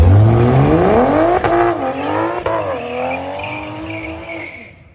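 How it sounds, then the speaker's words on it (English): A car does a rolling burnout leaving a location, its engine revving hard through rising gear notes as the tires squeal and skid, loud and close at first, then fading away as it drives off. "Might send a rolling burnout coming out of here, to be fair."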